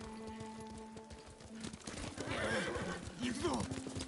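A horse in Ghost of Tsushima trots with steady hoof clip-clops, then lets out a loud neigh near the end, with game voices talking in the background.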